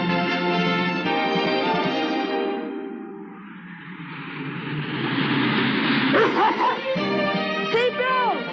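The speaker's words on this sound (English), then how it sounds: "You can decide that from a dog barking?" A dog barks and yips in a snowy mountain pass, a run of close barks, whimpers and yelps fairly loud, with some voices underneath.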